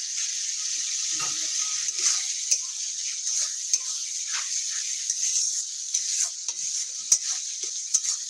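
Spicy dried fish chutney with tomato simmers in a pan, a steady close bubbling hiss with soft pops and occasional light spatters running throughout.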